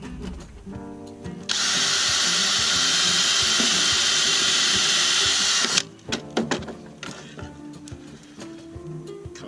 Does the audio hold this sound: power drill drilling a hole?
yes